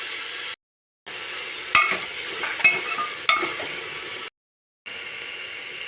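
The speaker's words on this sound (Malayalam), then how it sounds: "ഇനി ഇതൊരു വാടി വരുന്നിടം വരെ നമ്മൾ ഇളക്കണം." Sliced onions fry in a pressure cooker while being stirred, a soft steady sizzle broken by a few scraping strokes, with two brief gaps of silence.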